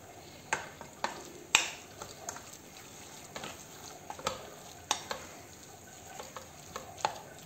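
Minced meat kofta frying in a pan, a quiet bed of sizzle broken by sharp pops and spatters every half second or so, some louder than others.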